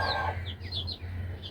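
Chickens in a rooftop coop give a few short clucks at close range over a low steady hum during a morning feeding.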